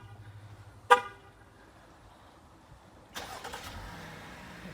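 A 2016 Jeep Grand Cherokee Limited 75th Edition is started by remote start. A single short horn chirp sounds first, and a few seconds later the engine cranks and settles into a steady, moderate idle.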